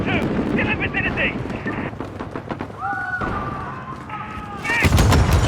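Gunfire and explosive blasts in a Modern Warfare video game campaign, loud and dense, with urgent shouted voices and radio chatter running over the shooting throughout.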